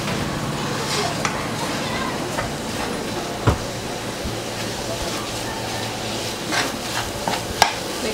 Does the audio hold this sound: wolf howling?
no